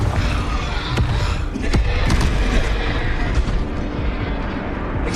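Booming spell blasts from the Confringo curse in Hogwarts Legacy, a loud continuous rumble with repeated sharp impacts and crackling bursts layered over dense game effects, with no pauses throughout.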